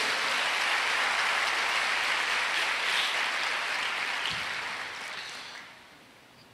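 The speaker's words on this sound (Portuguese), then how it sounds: "Então dá uma salva de palmas para o Senhor aí." Dense applause from a church congregation during a Portuguese-language sermon, a steady wash of clapping that thins and fades out near the end before a sudden bump at the close.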